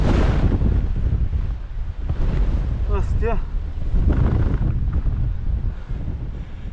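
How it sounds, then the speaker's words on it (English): Force 8 gale gusting at Migra l-Ferha on the Malta coast, a loud roaring wind buffeting the microphone continuously with rain, while a person speaks briefly over it. "Gust of wind is so strong."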